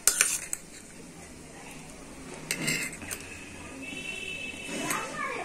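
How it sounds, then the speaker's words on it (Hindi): A spoon stirs a creamy mixture for shahi paneer in a bowl, giving light scraping and metallic clinks against the dish, close by, while a voice talks quietly underneath. "तो इसे अच्छी तरह से मिक्स कर लेती हूँ जिससे ये क्रीम जैसा बन जाए।"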